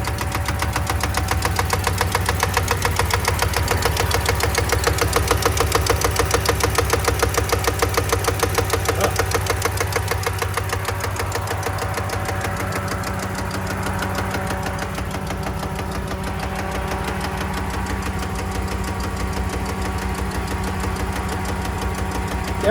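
A cheap used Mercedes engine idles steadily with a rapid, even lifter tick running through it, close and loud, the rhythmic clatter continuing throughout with no talk.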